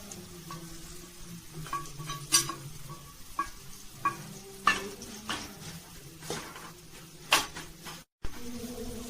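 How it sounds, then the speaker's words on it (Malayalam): Spices (chili, turmeric, roasted asafoetida and fenugreek powders) stirred in a hot pan for curry-leaf lemon pickle, with scraping spoon strokes and soft sizzling frying under brief clinks of cookware, close and steady. "ഇത്ര ഞാൻ ഇതിലേക്കിട്ട് ഒന്ന് ഇളക്കി കൊടുക്കുകയാണ്"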